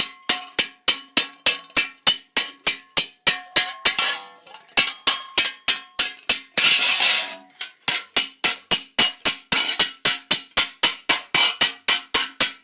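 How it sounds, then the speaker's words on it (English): A hammer strikes steel being shaped into late 14th-century greaves, ringing blows landing in a fast, even rhythm, close and loud. A short pause and a brief scraping burst interrupt the run before the steady hammering resumes. "Making lots of hammer marks"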